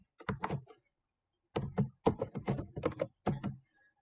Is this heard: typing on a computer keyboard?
yes